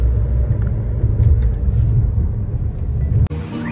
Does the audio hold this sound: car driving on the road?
yes